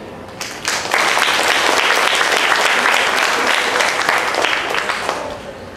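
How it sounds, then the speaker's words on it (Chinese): Graduation ceremony audience in a hall gives the school principal a loud, sustained round of applause, swelling quickly and holding steady before beginning to taper. "现在我们掌声欢迎校长为大家勉励"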